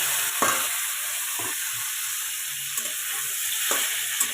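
Olives stirred in a frying pan with oil and a panch phoron spice tempering, a steady background sizzle broken by a handful of brief spatula scrapes and taps spaced about a second apart.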